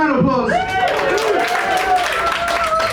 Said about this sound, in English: These are your contestants, everyone. Round of applause.